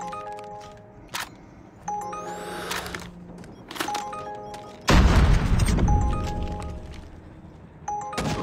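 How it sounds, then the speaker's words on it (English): A predator missile strike in Call of Duty Mobile lands as one heavy, booming explosion with a rumbling tail. Sharp game cracks and interface beeps sound before and after it. "Hostile predator missile inbound."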